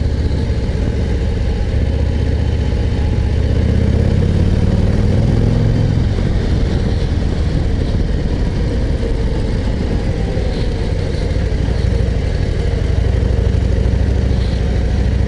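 A 2024 Harley-Davidson Street Glide 117 motorcycle engine rumbles steadily and loudly up close, with a low throbbing beat and a constant hum throughout.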